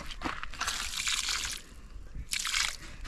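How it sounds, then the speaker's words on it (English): Water poured from a cup onto maize plants at a farm, splashing and trickling in two bursts with a short lull between, close and fairly loud. "the water is flowing towards this other end"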